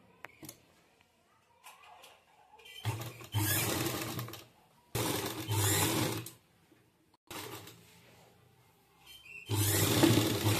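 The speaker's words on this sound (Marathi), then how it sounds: "याच्यावरती एक शिलाई टाकून घेणार आहोत" A sewing machine runs in four separate bursts, each a few seconds long, as a stiff fabric sleeve is stitched, and quiet pauses fall between the bursts.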